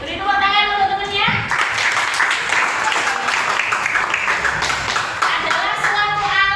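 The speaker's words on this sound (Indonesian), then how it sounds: "Oke, beri tepuk tangan untuk teman-temannya." Schoolchildren in a classroom clap together for their classmates, a dense, steady patter of many small hands, with children's voices rising at the start and end.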